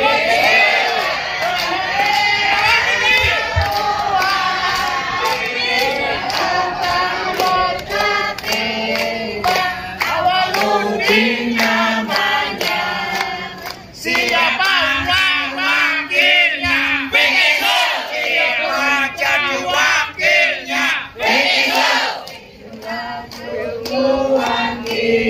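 Crowd cheering and clapping at an outdoor declaration and thanksgiving gathering for a regent candidate as Mbak Vicky arrives, a dense, loud roar of voices sustained throughout with music and chatter mixed in.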